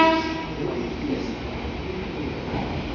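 A train rumbles steadily into Kanayama station in Nagoya, its low mechanical drone filling the space, with a brief tonal sound at the start.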